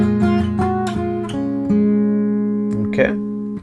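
A guitar plays one bar of a riff, with a quick run of plucked notes including a hammer-on, followed by a sustained ringing note and a brief final flourish, clean and close.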